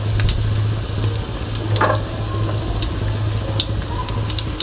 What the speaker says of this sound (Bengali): যদি আপনাদের কড়াইটা একটু বড় হয় তো এভাবে মিডিয়াম গ্যাসেই ভেজে নিব